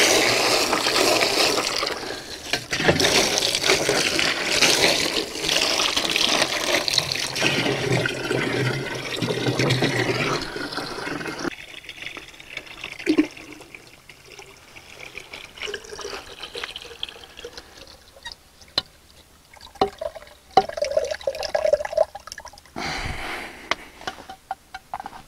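Water runs and splashes loudly as the base of a chicken waterer is rinsed, a strong gushing flow for about ten seconds, then quieter intermittent trickles, drips and handling knocks.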